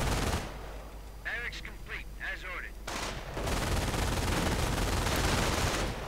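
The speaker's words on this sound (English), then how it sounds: "just 2 MG-42s unleashing death upon the riflemen, tearing through them" Bursts of MG-42 machine gun fire in a World War II real-time strategy game, rattling loud and continuous with dense battle noise and explosions, while a commentator talks over parts of it.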